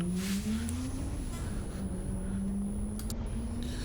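A modified race car engine under boost testing revs hard and close, its pitch climbing, dipping slightly, then rising again in a sustained loud drone with no talking.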